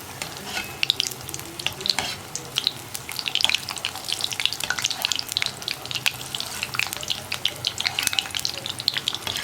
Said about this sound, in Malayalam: നമുക്കിതിൻ്റെ മുകളിലേക്കും എണ്ണ ഒഴിച്ചു കൊടുക്കാം